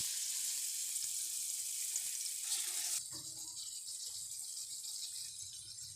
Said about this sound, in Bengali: এখন আমি একটি কড়াইতে তেল দিয়ে মাছগুলো ভেজে নেব।